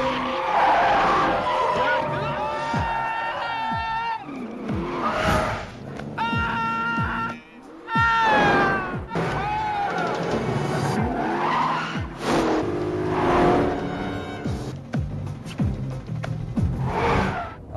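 In a movie car chase, tires squeal and skid again and again as engines rev and roar past, loud and close, with shouting voices mixed into the action.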